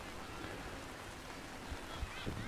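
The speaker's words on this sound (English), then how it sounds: "as the rain starts to get heavier again" Rain grows heavier over an outdoor Tiwi Bombers versus Nightcliff Tigers Australian football match, a steady, faint hiss of falling drops that fills the whole stretch evenly.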